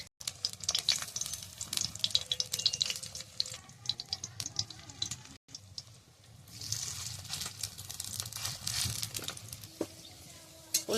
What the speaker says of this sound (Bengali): এবার আবার এই কড়াইতে তেল দিয়ে দেবো, বাদ বাকিগুলো ভেজে নেব।